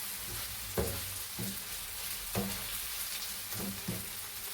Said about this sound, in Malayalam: ഇതിലേക്ക് നമുക്ക് റെഡിയാക്കി വെച്ച ചിക്കൻ ഇട്ട് കൊടുക്കാം